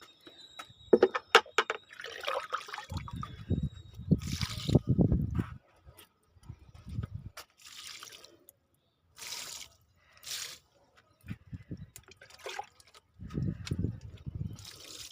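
Liquid fertilizer poured from a container onto rose plants in a garden, heard as several separate bursts of splashing liquid with short pauses between them, some louder than others.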